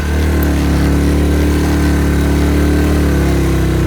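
A motorcycle engine that has broken down in a jungle being kicked over without starting, a steady loud, close mechanical rumble and churn throughout, no voices.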